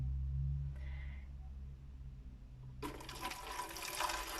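After a quiet moment, water starts pouring steadily into a bottle, a continuous rushing, gurgling stream that lasts until the end.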